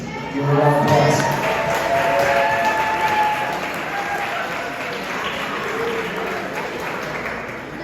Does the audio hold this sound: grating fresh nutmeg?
no